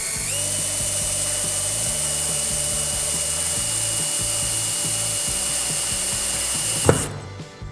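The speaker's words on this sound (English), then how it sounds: "Put it on fast drill mode, hold it down there, nice and securely, and just start slowly at first." A power drill set to fast mode bores through plastic into a steel tube, its high steady whine loud and close for several seconds before a sharp pop as it breaks through and the motor winds down.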